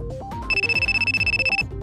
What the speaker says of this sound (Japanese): そうだ、電話。